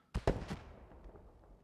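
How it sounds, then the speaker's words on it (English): Explosion in a squad-based shooter game, two or three sharp blasts in quick succession, then a fading rumble and scattered faint crackles, fairly distant and quiet. "As we hear a huge explosion behind us."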